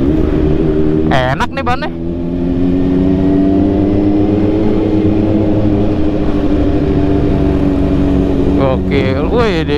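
A big motorcycle engine idles loudly and close, a deep, steady throb whose tone shifts as it is revved, with someone speaking briefly over it at the start and near the end.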